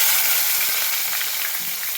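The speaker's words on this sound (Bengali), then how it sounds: "পেঁয়াজটা ভালো করে ভেজে নেব।" Chopped onions sizzle in hot oil over black cumin seeds, a steady, close, bright frying hiss for a Bengali shol fish curry, with no voices.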